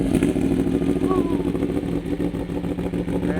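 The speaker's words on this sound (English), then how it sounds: "That beautiful Aprilia V4 sound." An Aprilia V4 motorcycle engine rumbles loudly nearby, idling and blipping with a throaty, uneven pulse.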